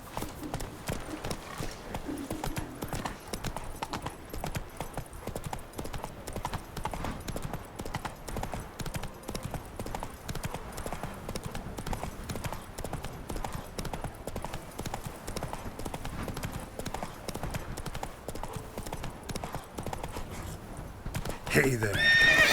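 Roach the horse trots across the ground in The Witcher 3, with steady, rhythmic hoof clip-clops running almost the entire time and a whinny breaking in near the end, all heard fairly close.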